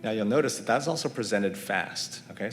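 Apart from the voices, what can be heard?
None of the usual background noises is heard.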